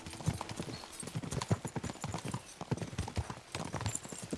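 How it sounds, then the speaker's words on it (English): Horses' hooves clip-clop at a steady, rapid rhythm in the medieval video game Kingdom Come Deliverance 2, close and fairly loud, with an occasional faint snort and no talk. "We should spur the horses on."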